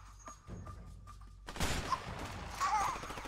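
Sniper gunfire in the co-op prison-escape game A Way Out: a sudden loud crack followed by sustained noisy gunfire and echoing impacts, preceded by a quieter stretch of faint mechanical tones.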